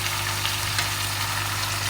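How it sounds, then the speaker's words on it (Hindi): Onions, tomatoes, green chilies and spices fry in a pan for spicy chicken wings, giving a steady, dense close sizzle with a low hum beneath and no talking. "हम 10 मिनट के लिए इसको अच्छी तरह से भून लेते हैं"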